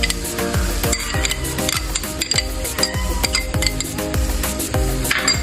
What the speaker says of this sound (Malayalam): ഇത് നന്നാക്കി ഇളക്കി യോജിപ്പിക്കുക.